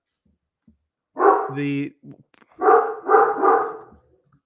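A big dog barks several times in loud, close bursts, with a brief spoken word just before and voices from an indoor podcast conversation around it.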